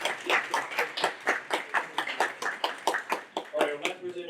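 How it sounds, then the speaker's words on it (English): Rhythmic clapping from a modest audience at an evening pitch competition, crisp separate claps in a steady beat, with a voice briefly audible near the end. "David Taylor, round of applause."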